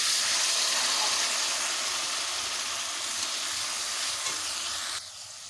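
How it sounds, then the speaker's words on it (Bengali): Mustard-poppy paste and green chili hitting hot oil tempered with nigella seeds, for hilsa, give a loud, continuous hissing sizzle that fades slightly and drops in level near the end, with no talking. "এবারে দিয়ে দেব বেটে রাখা সর্ষে পোস্ত কাঁচা লঙ্কা"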